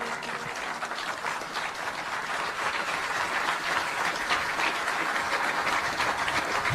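A crowd applauds an award presented at Aga Khan University, Kenya, with steady clapping sustained at an even level throughout and no voices over it.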